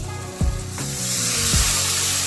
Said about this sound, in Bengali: জিরে গুঁড়ো, লবণটাও স্বাদ মতো অ্যাড করে আমরা মশলাটা কিছুটা কষিয়ে নেব।